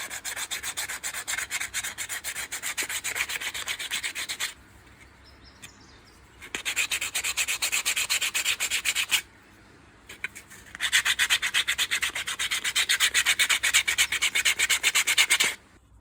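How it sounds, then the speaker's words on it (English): Steady rhythmic scraping of rough sandpaper on a wooden slingshot, close and loud, in three long stretches broken by short pauses. "Now I'll take sanding paper and finish the work. So I'll start with the rough one."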